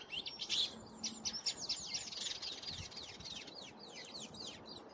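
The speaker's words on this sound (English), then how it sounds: "Sorry, it's not a white throat, it's a female sparrow." A female house sparrow chirps in rapid, repeated bursts of short calls, fairly close, among a busy chorus of chirping birds on a marshland reserve in early morning.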